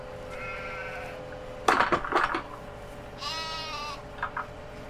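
Sheep in a farming video game bleat in short wavering calls, one before and a couple after a burst of clattering, over a steady low background hum.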